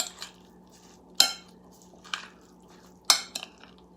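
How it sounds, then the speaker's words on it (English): Utensils tossing a tabouli salad in a bowl produce sparse, quiet clinks and scrapes, with two sharper knocks against the bowl and softer stirring between them. "I'm going to mix it all together."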